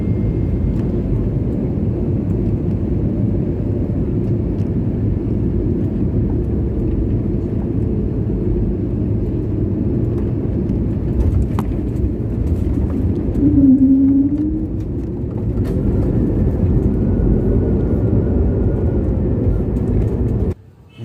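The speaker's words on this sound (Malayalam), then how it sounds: "ഹൈദരാബാദ് രാജീവ് ഗാന്ധി ഇൻ്റർനാഷണൽ എയർപോർട്ടിൽ ഇൻഡിഗോ വിമാനം ലാൻഡ് ചെയ്യാൻ പോവുകയാണ്" An IndiGo passenger jet comes in to land at Hyderabad's Rajiv Gandhi International Airport, heard from inside the cabin as a steady, loud engine rumble and airflow roar throughout, briefly rising near the end.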